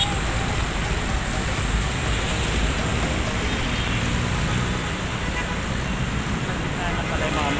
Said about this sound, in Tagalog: Puno ng sasakyan.